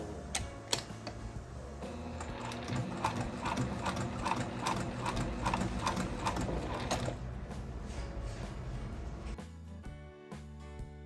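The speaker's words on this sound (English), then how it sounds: "lift the presser foot, turn the fabric and continue stitching." Sewing machine stitching a vinyl strap, a steady run of rapid rhythmic needle clatter with a mechanical whir that stops after about nine seconds, fairly quiet and close with no talking.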